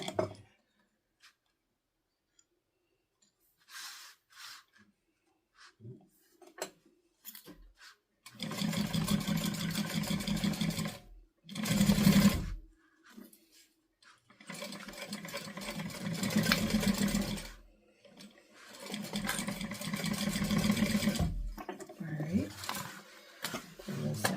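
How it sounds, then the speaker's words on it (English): A sewing machine runs a 1/4 inch seam on a guitar bag in several sustained bursts with pauses between them. Quieter handling noises come first. "now we are going to sew this at 1/4 inch seam allowance"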